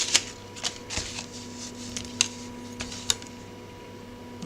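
Scissors snip through a paper album template to trim it smaller, giving a few short crisp cuts scattered over a faint steady background hum, close and fairly quiet.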